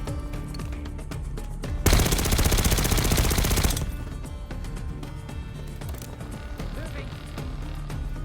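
Machine gun fire in a Call of Duty Black Ops 6 campaign firefight, a loud sustained burst of about two seconds standing out from the surrounding battle noise and scattered shots.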